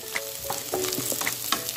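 Shrimp paste (alamang), about two tablespoons, sizzling in a pan over low heat while making stir-fried kangkong, a steady close frying hiss with light scraping and stirring clicks and no talk.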